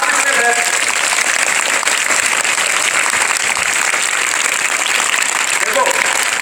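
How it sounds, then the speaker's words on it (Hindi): Students applauding themselves in a classroom: loud, dense, continuous clapping from a large group, steady and close throughout, with a few faint voices mixed in. "एक बार सभी एवरी इंडिविजुअल अपने लिए ताली बजाओ"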